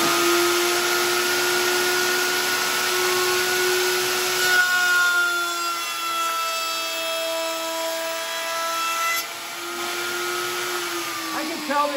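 A router bit cuts along the edge of a wooden picture frame, giving a loud, steady, high-pitched machine whine with a strong tonal hum. It runs continuously for about twelve seconds, dipping slightly in level partway through.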